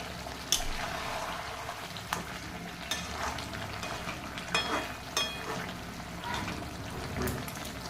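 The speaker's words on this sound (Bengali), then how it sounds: "এভাবে ঝোলের মধ্যে ঢুকিয়ে দিয়ে কষাতে হবে। এভাবে আস্তে করে নেড়ে দেবে।" Fish roe is stirred gently into a thick spice gravy and fried in a pan, giving a quiet, steady sizzle with repeated scraping strokes and clicks of the spoon against the pan.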